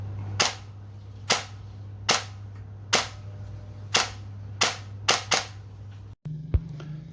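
An upgraded airsoft gun with a hair trigger fires eight sharp, close shots at uneven intervals over a faint steady hum, followed by a brief pause and a softer clack.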